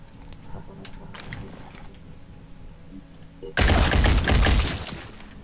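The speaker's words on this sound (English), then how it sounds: "You have machine gun." Muffled game ambience gives way to a loud, dense burst of machine gun fire in the turn-based strategy game Phoenix Point, lasting about a second before fading back.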